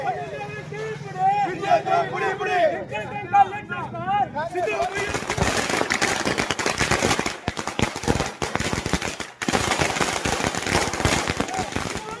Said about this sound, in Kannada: ಕಾಂಗ್ರೆಸ್ ಕಚೇರಿ ಎದುರು ಪಟಾಕಿ ಸಿಡಿಸಿ ಸಿಹಿ ವಿತರಣೆ ಮಾಡುವ ಮೂಲಕ ಸಂಭ್ರಮಿಸಿದರು